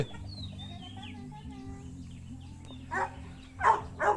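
Labrador puppies whimper with high, wavering cries, then let out three short barks close by toward the end.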